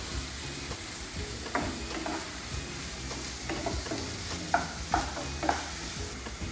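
Finely chopped tomatoes sauté in a pan for Mexican quinoa, giving a steady soft sizzle with scattered spoon clicks and scrapes against the pan.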